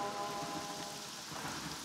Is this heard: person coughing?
no